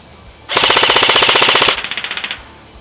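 Echo 1 Red Star LMG airsoft AEG fires a rapid full-auto burst of sharp, evenly spaced mechanical clacks for over a second, then a shorter, thinner string of shots trails off, loud and close with no voices.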